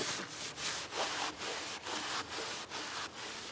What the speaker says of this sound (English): the thick layer of grime which completely veils the wood grain is scrubbed off